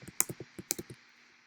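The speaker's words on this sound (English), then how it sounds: "I type in exactly the same." Quick typing on a computer keyboard, about a dozen sharp close-up key clicks in an uneven burst lasting roughly a second, then quiet.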